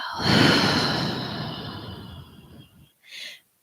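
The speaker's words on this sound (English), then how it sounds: "Big inhale in. And exhale." A long, deep exhale during a restorative yoga session, breath rushing out steadily and fading over a few seconds, followed by a short soft breath near the end, close and alone.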